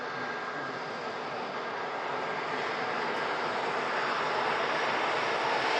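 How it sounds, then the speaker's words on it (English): Saudia Boeing 787-10 Dreamliner taking off for Jeddah, a broad, steady jet roar that builds gradually in loudness across the few seconds, with no voices over it. "Last departure of the live show, guys, is this Saudia 787-10 Dreamliner."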